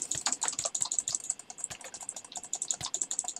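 Rapid keyboard or mouse clicking during a Minecraft PvP fight, a dense run of crisp, close clicks in quick irregular bursts with no talk.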